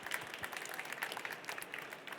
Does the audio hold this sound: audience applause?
yes